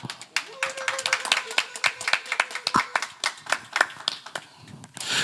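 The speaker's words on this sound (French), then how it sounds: "Si on peut l'applaudir pour sa carrière," A small audience claps for a gospel artist at a press event in London, sharp, distinct claps close by in an uneven rhythm, with voices briefly audible under them.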